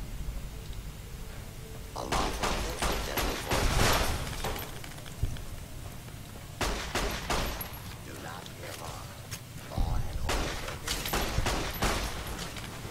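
Automated turret gunfire in the game Fallout New Vegas, rapid bursts of loud shots clustered in volleys with brief pauses, mixed with other game sounds, fairly close and dominant.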